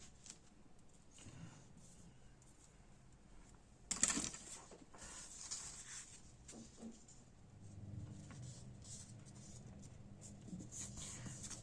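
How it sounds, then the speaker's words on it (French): Book pages are folded accordion-style by hand, giving quiet paper rustles and creases with a sharper crinkle partway through, close and faint in an otherwise still room. "Ensuite, on va venir plier en accordéon comme ceci."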